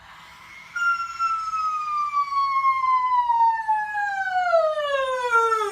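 A human voice imitates a siren in a musical sigh vocal exercise, a single sustained tone sliding slowly downward from high to low, clear and alone.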